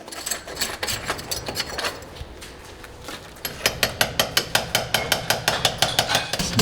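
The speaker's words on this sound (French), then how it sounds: "On dépose au marteau et au burin." A hammer drives a chisel to remove the sealing around a window panel in the chapel of the royal château of Amboise during restoration. Sharp metallic blows ring close by, at first irregular, then settling into a steady, evenly spaced rhythm.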